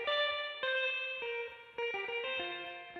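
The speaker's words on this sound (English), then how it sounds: "So for this, I've got this guitar thing here," Effected guitar sample played back on an Elektron Octatrack, a run of bright, chorused and reverberant plucked notes with faint distortion, each note starting cleanly in a steady melodic rhythm and ringing into the next.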